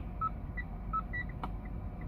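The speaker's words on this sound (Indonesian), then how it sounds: "Terus ada bunyi lampu sein, ini bunyi yang kedua." Soft electronic tones tick at a regular pace against a quiet engine hum, a Mitsubishi Outlander turn signal chiming repeatedly.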